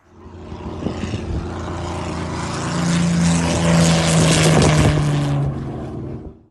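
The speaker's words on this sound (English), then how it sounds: "when the car is running, and when people first hear it, you hear it before you see it, and people look up because they think there's an aeroplane coming" A car's engine runs with a loud, droning roar like an aeroplane overhead, swelling in the middle and fading at the end, with no voices.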